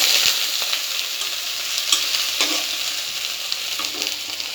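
Steady, loud sizzle of onions frying in a pan with a little water added, close up, broken by faint stirring scrapes and with no talking.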